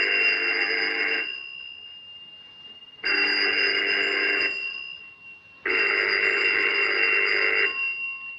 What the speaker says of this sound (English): That phone's been ringing for 10 minutes.